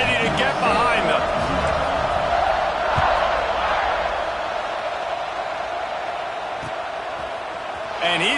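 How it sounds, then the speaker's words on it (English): Video game college football stadium crowd roaring before a kickoff, a broad, loud sustained cheer with a few sharp thumps, heard under a commentator's voice. "this crowd now ready to get behind them"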